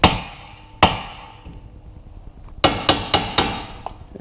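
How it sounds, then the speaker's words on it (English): A hammer strikes the wheel spindle of a 2006 Ford 500, nut left on to protect the threads, with two sharp metallic whacks followed by a quick burst of four more, loud and close. "Whack it right here on the spindle."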